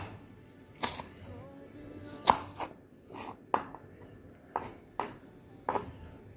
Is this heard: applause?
no